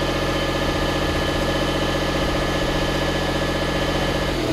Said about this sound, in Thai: สังเกตว่าเครื่องมันจะเร่งนะครับ